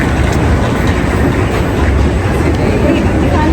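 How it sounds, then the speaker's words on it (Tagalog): A Taiwan MRT metro train rumbles steadily with broad, loud running noise and faint rhythmic rail clatter, heard from close by without talk. "MRT na naman kami."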